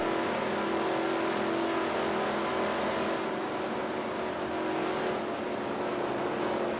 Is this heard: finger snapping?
no